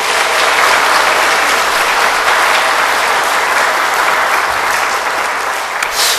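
A church congregation gives loud, sustained applause for the choir and orchestra, dense clapping filling the space evenly from start to finish.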